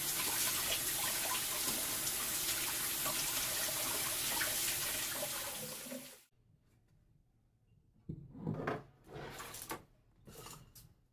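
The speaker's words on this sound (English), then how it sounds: "First I'm going to wash my hands." Running tap water pours steadily for about six seconds while hands are washed, then stops, followed by a few close clunks and rustles of handling.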